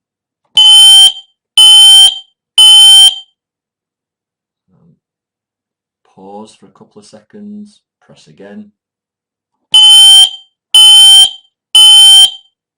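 A Careium i10 smoke detector sounds three loud, piercing alarm beeps in its test, then falls silent while a person speaks briefly, and sounds three more identical beeps.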